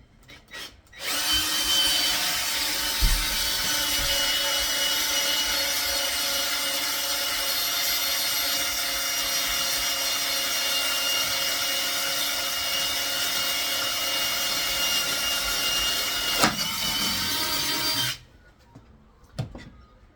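A power drill bores into a timber amp platform board, a loud steady high whine running unbroken for about seventeen seconds before cutting off, with a few faint handling clunks at start and end.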